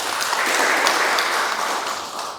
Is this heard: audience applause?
yes